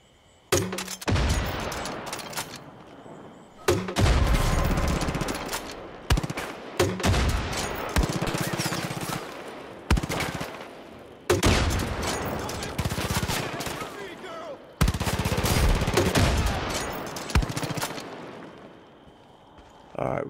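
Grenade launcher blasts from the video game Far Cry 5: five or six heavy booming shots spaced a few seconds apart, each with a sharp onset and a rumbling tail, loud and close.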